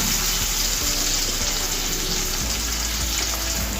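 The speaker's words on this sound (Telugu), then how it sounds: "ఇది కొంచెం వేగాలండి" Onions fry with turmeric in a pan, giving a dense, steady hiss and crackle that stays loud and even from start to finish, with faint utensil touches underneath.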